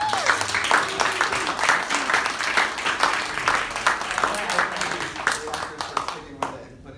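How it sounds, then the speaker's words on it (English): An audience at a cast and crew Q&A breaks into a dense, steady round of applause for several seconds, fading slightly near the end, with voices faintly mixed in. "let's have a nice round of applause for this guy."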